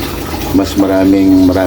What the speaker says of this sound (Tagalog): Pwede na tayo kaili maglagay ng tubig para tuluyan na rin maluto